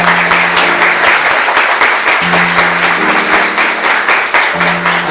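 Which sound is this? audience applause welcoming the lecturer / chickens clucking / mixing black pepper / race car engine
audience applause welcoming the lecturer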